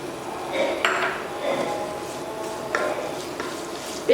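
A cup of chopped onion goes into a hot pan of oil while cooking loitta shutki (dried Bombay duck) bhuna, giving a close, steady sizzle with light clinks of a utensil against the pan.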